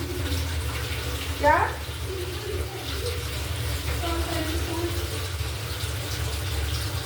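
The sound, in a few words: water running with the pump motor on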